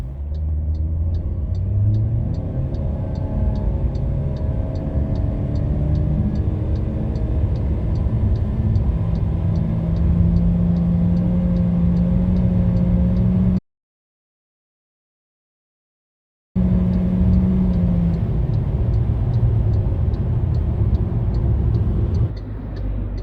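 An MG ZS 1.5L with a CVT and winter tyres, running on gas rather than petrol, accelerates hard from standstill to 100 km/h. The engine drone is loud and steady with rising tones, broken once by a few seconds of silence.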